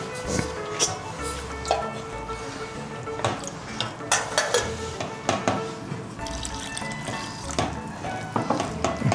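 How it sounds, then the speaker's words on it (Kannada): Rice flour stirred with water in a pan into a lump-free dough for bili holige: close, irregular scraping and clattering strokes repeat throughout over a soft background hiss. "ಹಿಟ್ಟನ್ನ ಗಂಟು ಇಲ್ಲದೆ ಇರೋಂಗೆ ಹದವಾಗಿ ಕಲಿಸ್ಕೊಂಡ್ಬಿಡ್ಬೇಕು."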